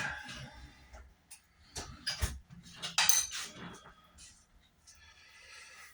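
A utensil chops and scrapes bigger lumps of potato in a pan while making hash browns, a scatter of close, irregular metallic clinks and scrapes mixed with soft kitchen noise.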